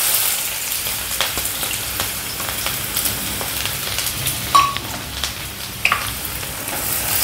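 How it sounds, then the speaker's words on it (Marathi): Chopped onion dropped into well-heated oil in a kadhai (wok) for chicken kheema, giving a steady close sizzle and crackle with a few sharper pops, no voices. "इथे कढईत मी तेल तापत ठेवलेलं, तेल चांगलं तापलंय। सर्वात प्रथम आपण याच्यात कांदा घालूया।"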